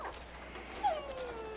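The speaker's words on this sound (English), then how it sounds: "You're such a good puppy." A dog in the Assassin's Creed 3 video game lets out a single short, high whimpering whine that slides downward, close and fairly quiet, with no talking.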